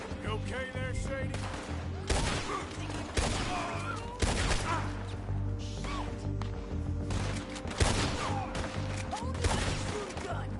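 Heavy gunfire from the Western game Red Dead Redemption 2, repeated sharp revolver and rifle shots cracking every second or two over a steady din of battle, with faint voices shouting in the background.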